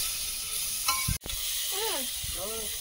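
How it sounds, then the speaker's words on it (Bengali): Shrimp frying in hot oil in a wok give a steady sizzle with a brief stir and clatter midway, while a voice sounds faintly in the background. "কড়াইতে তেল দিয়ে দিচ্ছি, চিংড়িটা ভেজে"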